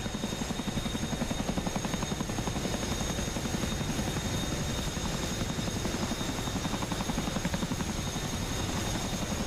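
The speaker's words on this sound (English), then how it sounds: "here's the exterior shot of the Chinook" Chinook twin-rotor helicopter heard from outside in flight, a steady loud rhythmic rotor thump with engine whine running continuously throughout.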